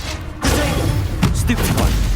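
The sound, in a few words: Confringo and Incendio spell blasts in Hogwarts Legacy video game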